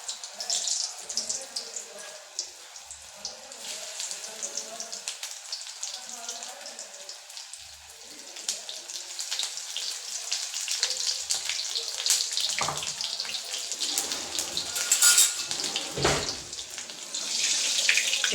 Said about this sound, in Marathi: आणि आता तळून घेऊया मस्त अशी भजी.